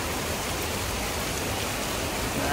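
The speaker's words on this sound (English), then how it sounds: "stuck in a downpour" Dense, steady hiss of heavy rain pouring down in a thunderstorm, loud and unbroken throughout.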